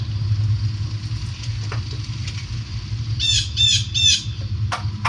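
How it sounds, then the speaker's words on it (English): Birds call nearby, with a quick run of three or four harsh, squawky chirps midway and a sharp call near the end, all over a low steady indoor hum. "those birds were annoying, and they wouldn't let me film my video"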